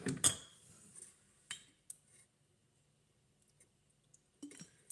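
A sauce of light soy sauce and white pepper is mixed in a dish, giving a few sparse, close metallic clinks and taps of a utensil against the container separated by quiet pauses, with no talking.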